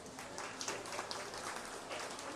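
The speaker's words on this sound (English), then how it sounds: "Let's give them all a round of applause." An audience at a goat show in the show ring at the Preston County Buckwheat Festival gives a steady, faint round of applause, the clapping heard from a distance and unbroken by speech.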